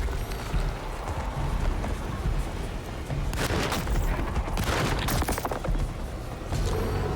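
Gunfire and heavy impacts in the Alone in the Dark video game, a loud dense barrage with booming shots clustering in the middle, rumbling noise throughout.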